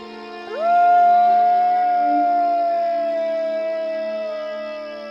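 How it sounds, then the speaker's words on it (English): A dog lets out a single long, sustained howl near a tram road sign at the top of a road, rising at the start and then holding a steady tone for several seconds, loud and alone. "He then gave a long howl."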